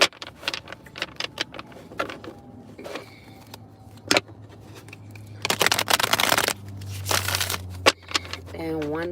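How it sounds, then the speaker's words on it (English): Tarot cards being shuffled by hand, with bursts of riffling and slapping cards, irregular and close, followed by a longer fluttering riffle, with soft sounds in between. "I'm going to shuffle these cards up,"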